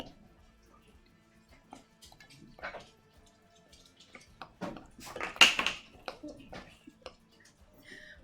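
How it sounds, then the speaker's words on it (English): Blue playdough dough being stirred with flour in a bowl: quiet irregular scraping, tapping and clinking of a utensil against the bowl, soft and close, building slightly louder midway. "And I'm going to mix it."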